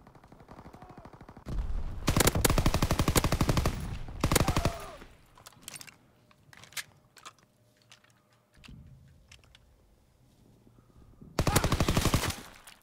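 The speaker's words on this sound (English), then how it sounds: "I'm shooting people in their head." Rapid bursts of automatic gunfire from the World War II shooter Call of Duty: WW2, loud repeated volleys with shorter single shots between them and game effects underneath.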